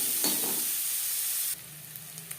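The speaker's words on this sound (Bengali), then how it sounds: "ডিম ভেজে নেওয়া তেলে দিয়ে দিলাম পেঁয়াজ কুচি" Chopped onions drop into oil left from frying eggs for an egg curry, giving a loud, close sizzle that bursts up at first, then settles into a steady hiss and finally quietens to a faint crackle with a few pops.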